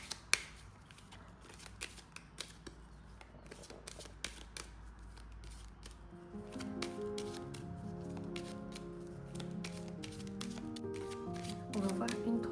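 Tarot cards are shuffled and handled, with soft rapid flicks and slides under a woman's continuous speech, fairly faint and close.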